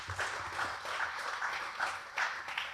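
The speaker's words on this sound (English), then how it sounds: "Let's give a round of applause to our esteemed panelists." Faint, distant applause for a discussion panel, a steady broadband patter of clapping with gentle swells that continues evenly for the whole stretch.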